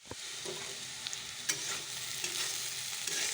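Food frying in a pan, a steady close hiss with a few soft clicks and light stirring knocks throughout, no voices.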